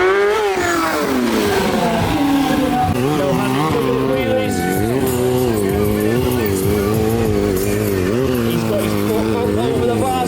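Stunt motorbikes at a show rev loudly and continuously, engine pitch swooping up and down through repeated throttle blips, close and dominant with crowd and voices mixed in.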